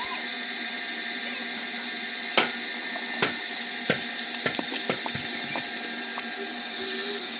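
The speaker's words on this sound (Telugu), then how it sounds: "కలబంద చెట్టుకు నీళ్ళు పడదాం" Water is poured onto an aloe vera plant, a steady liquid rush under a faint motor hum, broken by a few scattered splashes and knocks.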